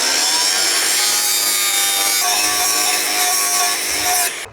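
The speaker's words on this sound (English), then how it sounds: "I've got to take that rise off, so I'm going to have to grind into it." An angle grinder bites into thick steel during tiny home construction, a loud, close, continuous harsh whine that holds steady for several seconds before cutting off.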